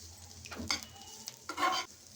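Carrots frying in a pan for a carrot and sago payasam sweetened with jaggery, with two brief scraping stirs and a faint sizzle at close range, no voices.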